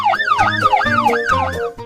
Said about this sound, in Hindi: उनके घर के बाहर पुलिस की गाड़ी आकर रुकी